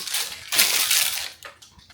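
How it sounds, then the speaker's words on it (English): Parchment paper is crumpled by hand, giving crackling, crinkly bursts that swell and fade in quick rustling waves, close and loud. "take our parchment paper, crumple it up, crumple it because it makes it easier to put inside of the bowl"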